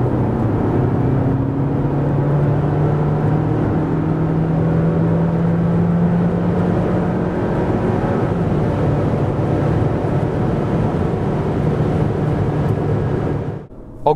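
A 2025 Jeep Renegade with a 1.5-litre 130 hp petrol engine pulls hard from 90 to 140 km/h, a steady, loud cabin drone with a slowly climbing engine tone and wind roar, cutting off abruptly at the end.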